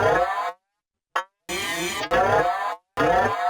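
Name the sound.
cow moo sound on a Pocket Operator synthesizer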